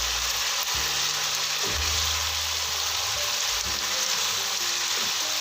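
Mutton and masala for aloo gosht are bhuna-fried in a pan, a dense continuous sizzle with low scraping and stirring thuds throughout.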